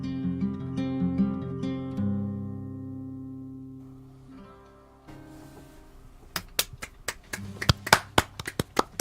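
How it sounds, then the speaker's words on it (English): Audience at a small live music show claps for the performer after a song, a spatter of sharp handclaps beginning partway through as the last sustained notes fade out. "it feels nice to clap"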